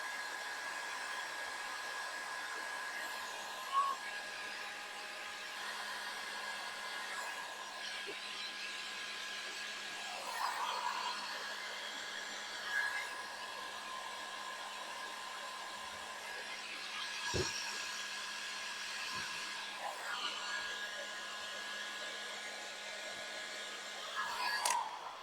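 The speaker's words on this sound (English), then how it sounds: "let's get some heat on here and shrink this tube together" A heat gun blows steadily for about 25 seconds, shrinking heat-shrink tubing over tractor light wiring on an LS tractor; a constant airy whoosh with a few faint clicks and handling bumps, no talking.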